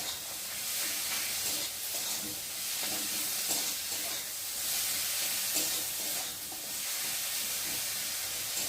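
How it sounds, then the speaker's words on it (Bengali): Maggi noodle masala sautéed in a pan makes a steady close sizzle and hiss, broken by repeated scraping stirs of the spatula in a rough rhythm, with no voices. "দিয়ে ভালো করে একটু কষিয়ে নেব।"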